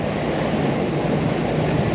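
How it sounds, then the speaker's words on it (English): Waves batter against a low beach groin extending about 25 feet into the water, a steady loud broadband surf wash with wind rumble, constant and without pauses. "the waters or the waves are battering against it"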